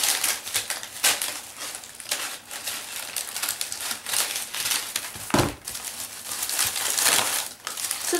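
Scissors snip through a tied bag of hay close up, among steady dry crinkling and rustling of the stalks, with a few sharper cuts standing out.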